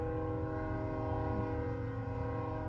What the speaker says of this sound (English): you gotta forgive the train here